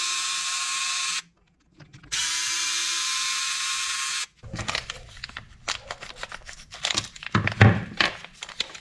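Power tool backing out two long screws that run through the rear axle to free a bracket on an Element ECTO electric scooter, coming in bursts of buzzing drive noise and rattling after a steady whine that cuts out briefly.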